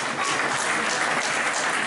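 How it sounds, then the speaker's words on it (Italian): Audience applause at an award ceremony for nativity scenes in Fasano, a steady dense clapping from a sizable crowd filling the room, loud and continuous with no talk over it. "dai un bel applauso per questo bel presepe"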